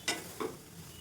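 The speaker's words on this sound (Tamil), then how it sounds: "ஒரு கிண்டிட்டு" Soya bean curry stirred in a pan gives two brief scraping strokes a fraction of a second apart, faint over a soft background.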